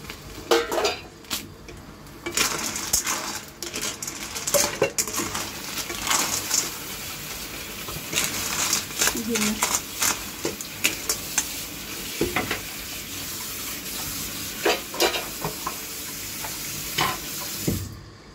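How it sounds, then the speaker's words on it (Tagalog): Ginger and garlic sauté in a pan, a soft sizzle broken by frequent loud clanks and scrapes of a utensil stirring against the metal at an uneven rhythm. "nagisa na natin ang luya, tsaka bawang"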